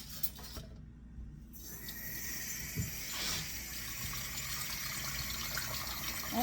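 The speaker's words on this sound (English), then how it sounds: "Put hot water in your bowl" Hot water pours steadily from a faucet into a bowl for bread dough, a continuous close hiss and splash after a brief quiet moment at the start.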